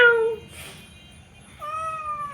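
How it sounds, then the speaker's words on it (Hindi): A domestic cat meows twice, close and clear, with a short rising call followed by a longer drawn-out meow in an indoor home setting, with no talking. "मीनू म्याऊ म्याऊ म्याऊ, वो क्या कर रही?"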